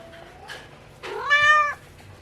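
A house cat gives a couple of short chirps, then one clear, loud drawn-out meow close by, alone in a quiet room.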